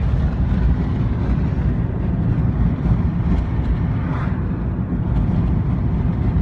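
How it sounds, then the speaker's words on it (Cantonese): Strong wind roars and buffets steadily near wind turbines, a loud, low rumbling rush that never lets up. "好大風啊！"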